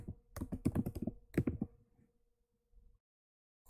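Keys on a computer keyboard clatter in a quick burst of close taps, pause briefly, rattle again in a short run, then trail off into a few soft clicks and quiet.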